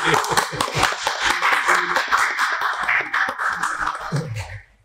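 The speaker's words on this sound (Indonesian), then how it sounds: "Ini bisa tepuk tangan ini untuk Kalimantan Timur." Applause from an audience at a writing talk, clapping for the East Kalimantan delegation: a steady patter of many hands close by, holding for a few seconds before stopping abruptly.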